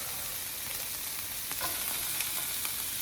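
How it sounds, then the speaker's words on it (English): Vegetables sauté in bacon grease with a constant crackling sizzle and a few soft stirring taps, steady and close, with no talking. "I like to saute my veggies in the bacon grease that I cook."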